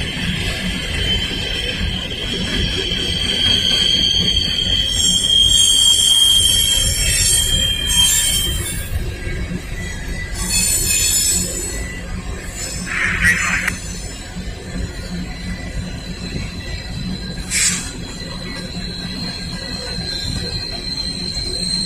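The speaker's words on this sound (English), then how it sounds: "That is the train that holds the empty coal cars back from the Tidewater area to the coal fields of Virginia and West Virginia." An empty Norfolk Southern coal train rolls past, its wheels letting out long, high metallic squeals over a steady rumble, with several shorter squeal bursts later on, fairly close and without talking.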